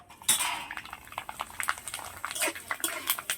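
Homemade potato papad hits hot oil in a pan, giving irregular crackling pops and sharp sputters in quick bursts, close and fairly faint.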